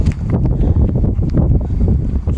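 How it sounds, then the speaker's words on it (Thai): Strong wind buffets the microphone at a harbour in Ängelholm at night, a steady loud low roar with gusty rumble and no speech. "ลมแรงอยู่นะคะเนี่ย ลมแรง"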